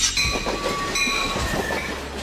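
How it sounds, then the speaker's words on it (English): A commuter train running between city and suburbs rolls along the rails with a steady rumble and clickety-clack, plus faint high squeals from the wheels. "Commuter train. A train service that operates between urban areas and the suburbs"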